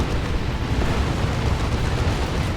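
Rumbling artillery barrage explosions from a Space Marines versus Orks battle in Warhammer 40,000: Dawn of War 2, a dense, continuous roar of booming blasts filling the whole stretch with no voices.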